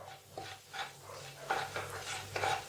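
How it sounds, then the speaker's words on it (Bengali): Cumin seeds and dried red chilli go into a hot pan of oil while cooking fish roe curry, giving a soft sizzle with light stirring and scraping of a utensil against the pan, close and fairly quiet. "এবার আমি এর মধ্যে দেব এই জিরে আর শুকনো লঙ্কাটা"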